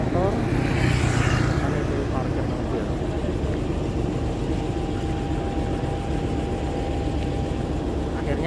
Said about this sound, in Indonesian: Ini suasana parkir di stasiun Bogor Paledang,